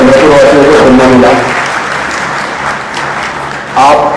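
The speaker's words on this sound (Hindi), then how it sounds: "एक बार जोरदार तालियां हो जाए देवदत्त जी के लिए" Loud, dense audience applause for speaker Devdutt Pattanaik at a business talk in Chandrapur, a sustained wash of many hands clapping that fades slightly before swelling again near the end.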